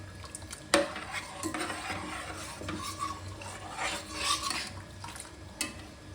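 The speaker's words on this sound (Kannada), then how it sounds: "ಈಗ ಮಿಕ್ಸ್ ಮಾಡ್ಕೊಳ್ಳೋಣ. ನೋಡಿ ಚೆನ್ನಾಗಿ ಮಿಕ್ಸ್ ಮಾಡ್ಕೋಬೇಕು." Spoon scraping and stirring food in a metal pot while making idli sambar and chutney, soft rasping strokes with a few sharper clinks against the pot, fairly quiet and without speech.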